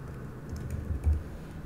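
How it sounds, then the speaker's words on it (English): Quick, soft keystrokes on a computer keyboard tap out a short burst of typing over a low background hum, close and fairly quiet. "I can, you know, manually type it in."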